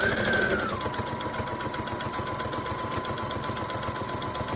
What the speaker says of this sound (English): that will help stitch down all of that fabric that we put inside of there and clipped